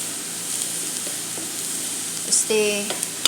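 Onions sautéing in a small amount of oil for a home-cooked vegetable dish, a steady close sizzle with a few light utensil scrapes and taps, briefly louder near the end.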